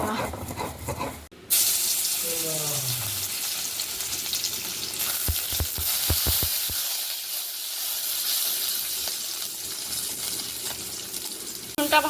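Garlic sizzles steadily in hot oil in a village kitchen, a continuous close crackling hiss after a brief handling noise, with a few stirring clinks midway.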